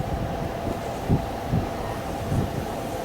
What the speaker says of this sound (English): This is a train of empty torpedoes just come from the boss plant where they make the steel